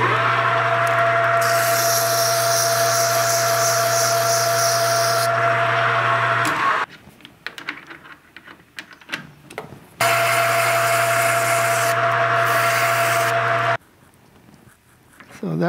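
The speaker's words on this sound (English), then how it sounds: "First thing is the lathe and a little bit of sanding." Loud motorized whine of a metal lathe turning and sanding rearset parts for a 1974 Ducati 750 GT, running steadily, stopping twice for quieter handling noises before starting up again.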